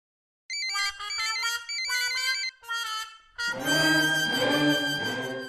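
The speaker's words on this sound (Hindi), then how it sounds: "अबे राजा बार बार क्यों फोन कर रहा है यार" A melodic phone ringtone plays in repeated bursts with short gaps, then swells into a louder, fuller musical passage; no talking.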